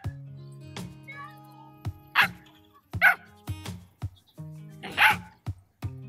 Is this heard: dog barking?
yes